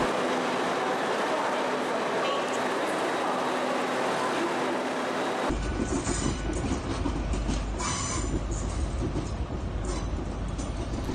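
An Intercity 125 HST high-speed train departs Paddington, a loud sustained rumble and roar of engines and rolling stock that shifts abruptly midway into heavier, rattling wheel noise with clattering and squeal as it pulls away.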